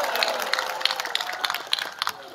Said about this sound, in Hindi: सभी लोग ताली बजाइए भाई